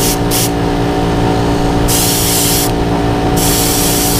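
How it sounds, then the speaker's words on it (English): A paint spray gun hisses steadily and continuously while repainting a toy figure, with bursts of brighter, louder hiss switching on and off over a low background hum. "we're just going to spray the back"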